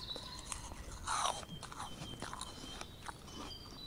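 A mantis in a video game bites an apple with an exaggerated, loud, crisp crunch, followed by a few softer crunching and chewing sounds, close and without talk.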